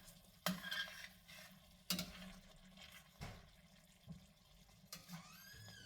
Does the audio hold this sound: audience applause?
no